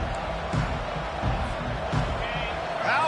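Stadium crowd at a football game roaring and cheering in a steady, dense wash of noise, loud throughout with a few sharper swells.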